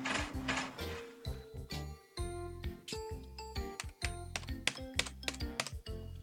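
Typing on a computer keyboard, close and fairly quiet, with irregular clusters of sharp key clicks and clacks, some quick runs and some single presses, with no talking.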